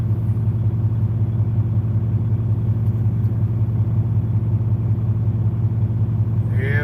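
A truck engine idling at a truck island on a rainy night in Texas, a steady low pulsing rumble that stays constant and fairly loud throughout, with no talk over it.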